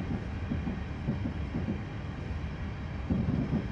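A train in Train Simulator 2014 rolling over a rail switch, heard as a low, rhythmic rumble of wheels with soft clicking joints, steady and moderately quiet with no talk.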